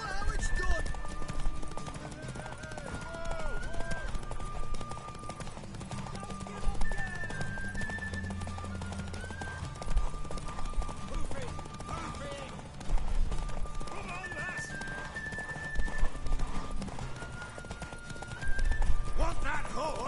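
Horse hooves clop and gallop steadily through a scene in the video game The Witcher 3: The Wild Hunt, mixed with game music and occasional voices.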